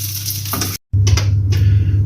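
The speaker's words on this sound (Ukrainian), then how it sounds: "ми піджарили наші котлетки, зробили тільки корочку" Pork cutlets sizzle loudly in a frying pan as they brown, a steady close crackle broken by a brief silent gap, with stirring and clattering against the pan on top of the frying hiss.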